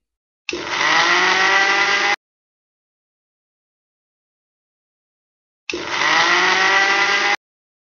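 A mixer grinder grinding vegetables whirs loudly in two separate bursts of under two seconds each, with a few seconds of silence between them.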